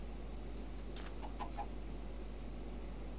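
A Minecraft chicken gives a few short, soft clucks in the middle of the stretch, faint against a steady background hum, with no talking over it.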